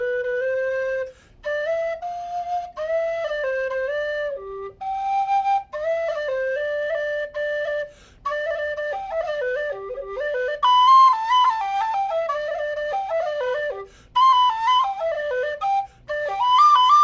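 A Carbony low whistle plays a flowing melody, clear breathy notes moving up and down with short pauses between phrases, alone and close.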